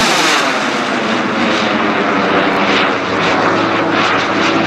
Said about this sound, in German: 18 kilo turbine, however, he uses his own design afterburner on this engine